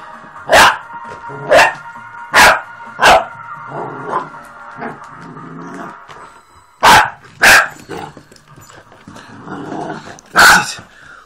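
A puppy barks sharply at a Dr Pepper bottle, about seven loud, close yips and barks in irregular bursts, with low growling between them and no talk over it.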